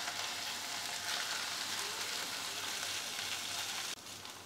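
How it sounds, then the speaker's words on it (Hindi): Masala spices with cumin and coriander powder fry in a pan, giving a soft, continuous sizzle and crackle, quiet and close, that drops slightly near the end. "मसाले को 1 मिनट और भूनेंगे अच्छे से"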